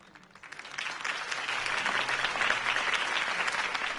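Steady crowd applause in the video game Batman: The Telltale Series swells quickly and holds, a dense wash of many hands clapping with a faint murmur underneath, no voices standing out.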